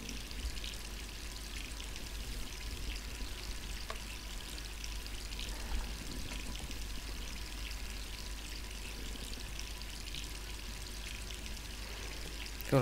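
A tap runs steadily inside the Resident Evil 3 game, a soft, continuous hiss of flowing water that stays even and fairly quiet from start to finish with no one talking.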